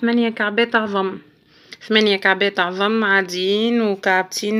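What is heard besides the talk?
No everyday noises stand out.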